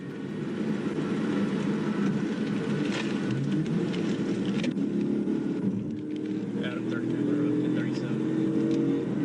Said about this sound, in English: That's when the young man behind the wheel took off.